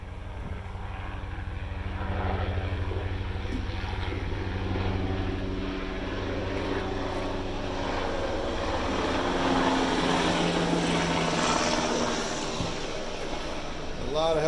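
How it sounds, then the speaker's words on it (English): Army training helicopters flying overhead at Fort Rucker, a steady distant rotor and engine drone that swells and fades throughout, with faint voices at times. "A lot of helicopters around here."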